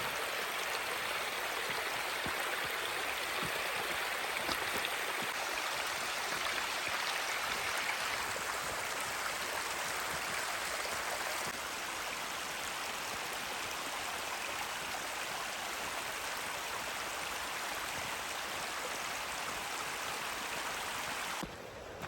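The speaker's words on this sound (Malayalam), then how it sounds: "മൊത്തം ഭയങ്കര മഴയാണ്" Steady, dense rushing of heavy rain in the Dolomites pours continuously throughout, a broad hiss with no pauses and no voices.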